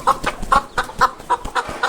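Colombian Light Brahma chickens cluck in a quick, regular series of short calls, close by and fairly loud, with no talking.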